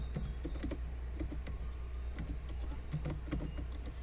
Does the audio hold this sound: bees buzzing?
no